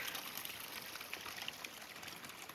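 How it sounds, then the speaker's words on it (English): A small water fountain on the Eagle Rock Loop in Arkansas flows into a creek, making a faint, continuous trickling and splashing wash with no speech. "Cool little fountain here."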